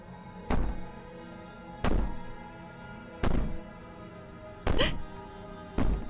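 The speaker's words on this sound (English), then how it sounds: "Maybe the banging and wailing will stop if you just don't pay attention to it." Heavy banging on a door in the video game Slay the Princess, five loud booming thuds spaced about a second apart, each with a short resonant tail, alone and close.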